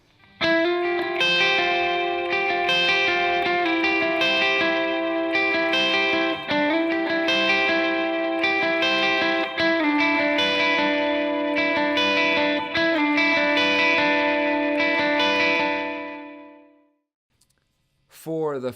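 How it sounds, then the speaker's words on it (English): Electric guitar played at full speed with a delay effect, a continuous sustained run of ringing notes with echoing repeats that fade out near the end, followed by a brief sound. "So full speed with the delay on would kind of sound like this."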